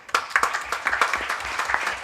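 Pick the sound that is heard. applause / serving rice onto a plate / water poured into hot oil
applause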